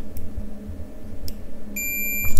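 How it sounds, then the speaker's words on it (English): A multimeter set to continuity mode gives a single sharp electronic beep when its two probes touch, heard late against faint background hum and small handling taps. "if I touch both probe together, we will hear a beep"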